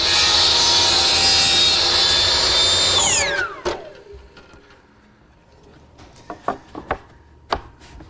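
A power saw trims the long point of a walnut panel miter, whining loudly and steadily for about three seconds before spinning down, followed by a few sharp knocks and clicks of the wood being handled.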